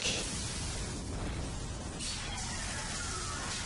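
Fireworks explode continuously in Bioshock Infinite, a dense, steady roar of distant bursts and crackles with no clear pauses and no voices.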